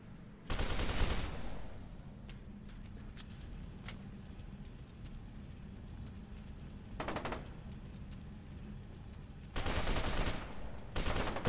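Automatic gunfire in the shooter F.E.A.R. 2 Project Origin breaks out in a few loud bursts separated by quieter stretches of low background noise, with faint scattered clicks between volleys.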